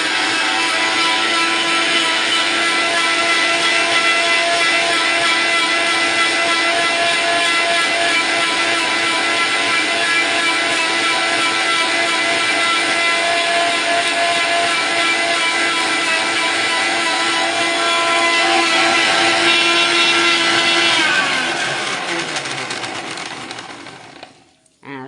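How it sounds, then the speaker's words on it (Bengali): A mixer grinder grinding mustard seeds into paste, a loud, steady high-pitched whirring motor running continuously for over twenty seconds before winding down and stopping, close and alone. "এই সর্ষেটা মিক্সি মেশিনে পেস্ট হয়ে গেছে"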